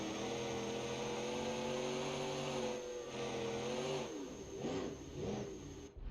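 A V8 diesel engine in BeamNG.Drive runs at a steady, loud drone, then revs up and down in a few quick swells near the end.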